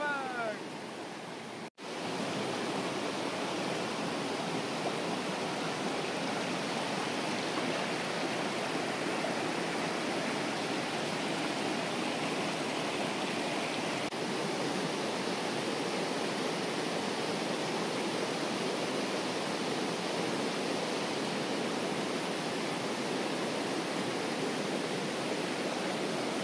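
Shallow stream flowing over rocks, a steady broadband rush of water close by that continues evenly for the whole stretch, with a brief knock near the start and no talk.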